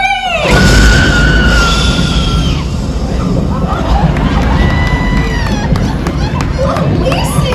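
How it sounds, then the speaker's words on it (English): A crowd at the Universal Studios Hollywood Special Effects Show lets out a loud, sustained scream, voices piercing and overlapping, then dissolves into cheering and excited shouting. "let's hear that incredible scream one more time"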